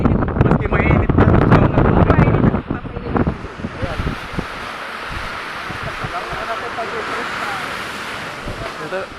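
Wind buffets the microphone outdoors, loud and rushing at first under a voice, then settling into a steadier, softer blowing that mixes with a broad surf-like hiss.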